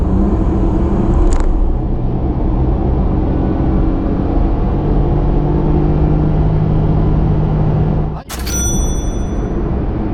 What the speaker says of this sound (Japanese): まずは70キロから100キロの加速タイムを計測します。